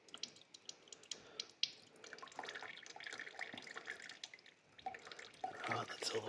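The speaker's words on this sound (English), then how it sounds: "Cap's off, so it's draining out freely." Old fluid drains freely from the Red Rocket with the cap off, dripping and trickling in an irregular patter close by, building into a steadier flow toward the end; faint talk sits underneath.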